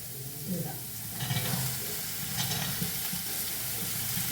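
Curry leaves sauté in a pan with a constant sizzle, close and fairly loud, broken by rustling strokes as they are stirred.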